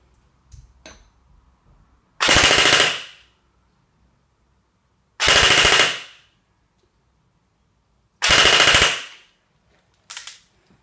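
An airsoft gun firing 0.2 gram BBs on a 9.9 volt Li-po battery pack, three loud, close full-auto bursts of about a second each, followed by a short final burst, with silence between them.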